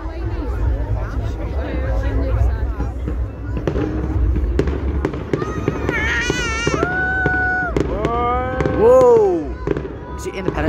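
Fireworks display exploding over a river at the 2022 Runcorn/Widnes show, with repeated loud bangs, crackles and whistling rockets rising and bursting, while a crowd chatters in the background.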